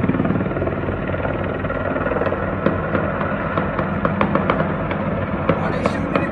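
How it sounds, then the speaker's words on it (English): Gunshots fired into the air as warning shots amid a chaotic crowd at Kabul airport, heard as a series of sharp cracks, some several in quick succession, over a loud continuous roar of crowd noise and shouting. "They just warning shooting, you know, to the air."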